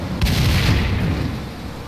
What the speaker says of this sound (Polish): Uaktywniłeś zapalnik w tych beczkach, uderzając łokciem